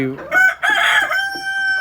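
A rooster crows loudly and close by, a long bright call with a sustained tail, with hens clucking faintly around it.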